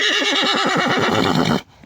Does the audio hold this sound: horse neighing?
yes